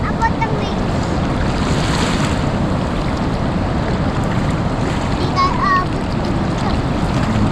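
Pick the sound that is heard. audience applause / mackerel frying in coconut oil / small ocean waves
small ocean waves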